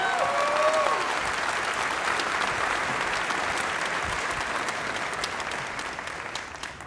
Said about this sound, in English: let's give it another round of applause to the great band out there